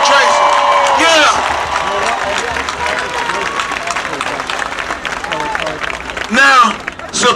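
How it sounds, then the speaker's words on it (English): A crowd at a Trayvon Martin rally claps and cheers with scattered whoops, the applause rising again toward the end with voices mixed in. "Y'all give them a round of applause."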